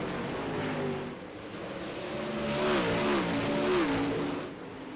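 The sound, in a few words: dirt super late model race car engines, racing video game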